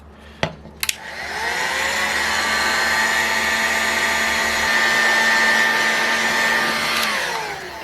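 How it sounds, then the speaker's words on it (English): A heat gun warms a bearing housing during a bearing replacement: a couple of sharp clicks as it switches on, then a loud, steady blowing whine with a fan hum that runs evenly before cutting off near the end. "and of course my heat gun. So let's go ahead and heat this thing up and get these bearings out"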